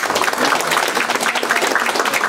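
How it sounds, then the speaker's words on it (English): Applause from an audience at an evening civic coalition gathering, a steady dense patter of many hands clapping throughout, fairly loud and close, with faint voices mixed in. "a round of applause, please"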